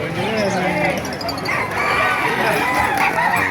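Roosters crow and chickens cluck amid a busy outdoor market crowd in Calumpit, with people talking throughout.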